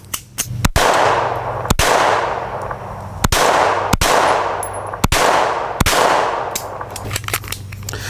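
Sharp, loud shots from a Beretta Model 21A .22 pistol fired outdoors at a range, about eight reports at a slow, slightly uneven pace, each ringing off with a short echo, alongside a few faint pops from other shooting.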